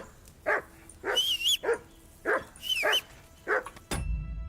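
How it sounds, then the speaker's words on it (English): Repeated yapping barks from a dog in the medieval role-playing game Kingdom Come: Deliverance 2, five or six sharp bursts in an uneven rhythm, some rising into whiny, high-pitched yelps, fairly close and alone. "過嚟啊，衰狗！ 你再嘈我打你㗎啦！"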